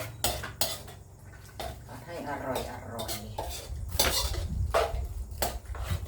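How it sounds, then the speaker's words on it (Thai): Sun-dried pork stir-fried with curry paste in a pan for Thai panang, with repeated clinks and scrapes of a utensil against the pan at close range and someone speaking briefly. "แล้วก็หั่นเป็นชิ้นเล็กลงหน่อยแล้วก็มาใส่เลยค่ะ มาผัดกับเครื่องแกง"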